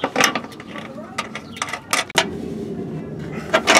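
Mechanical clicks and ratcheting from a battery cable end being tightened down onto a switched fuse block, a few sharp close taps and scrapes with steady background noise.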